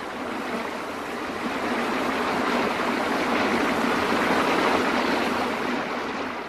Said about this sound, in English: The water pours smoothly over the fall.